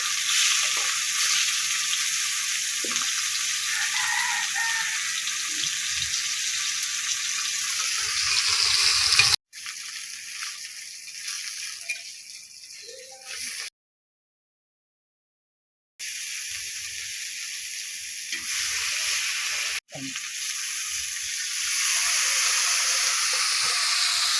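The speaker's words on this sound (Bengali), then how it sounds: "মাছ দিলাম গো, তরকারির মাছ। তেলে বুড়ি বুড়ি হয়েছে না" Fish pieces fry in hot oil, giving a steady hissing sizzle with brief cuts and a short silent gap partway through.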